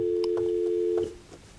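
After a phone caller hangs up, a steady electronic telephone tone hums from the line for about a second, then cuts off, leaving faint background noise.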